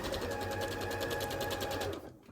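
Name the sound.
sewing machine stitching quilt block pieces together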